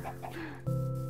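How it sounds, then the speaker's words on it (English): Chickens cluck softly nearby outdoors, a few short murmuring calls over a steady low hum, followed by a sustained tonal drone. "There's so many chickens."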